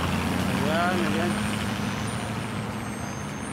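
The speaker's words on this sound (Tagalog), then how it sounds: "Daming mga sasakyan" Dense traffic of many vehicles, cars and trucks, crawling during a UAE National Day celebration, a steady broad engine rumble with a brief horn-like tone near the start and a voice speaking over the din.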